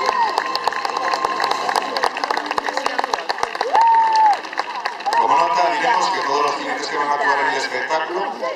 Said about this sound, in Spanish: Fuerte aplauso para los jinetes que hacen su entrada en pista.